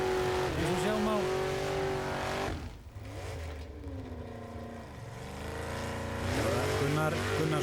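Modified off-road cars race up a steep, loose hillside at Jósepsdalur, engines revving hard and rising and falling in pitch, with tire scrabble, under continuous commentary.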